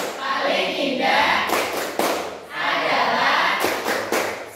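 A group of school teachers at a workshop doing a rhythmic patterned clap together, several bursts of loud sustained clapping with thumps and crowd voices mixed in.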